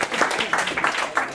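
An audience at a talk claps and cheers, with dense steady applause filling the whole moment at close range.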